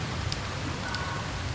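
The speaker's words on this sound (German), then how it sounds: "Eine schöne Dusche im kalten Wasser." Cold water showers down in the video game Never Alone as a steady, even rush like heavy rain, filling the scene at moderate loudness with no talk over it.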